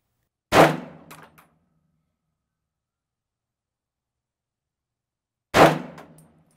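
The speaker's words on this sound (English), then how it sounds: "Okay, nice, steady shots." Two single pistol shots fired at a paper target on a range, each a sharp loud crack with a short ringing tail and a faint echo, spaced about five seconds apart with silence between.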